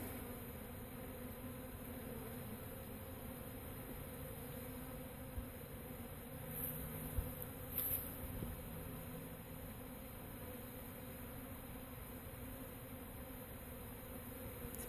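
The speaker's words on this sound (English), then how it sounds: "It's a pretty good sized swarm." A good-sized honeybee swarm shaken out of a camellia into a box over a white sheet, giving a continuous dense buzzing hum with a few brief louder passes of individual bees close by.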